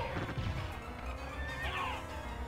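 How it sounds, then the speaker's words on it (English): Horses in Castlevania: Symphony of the Night neigh with shrill, wavering whinnies over a low rumble and hoof-like clopping, moderately loud with no talk. "Oh, the horses, yeah."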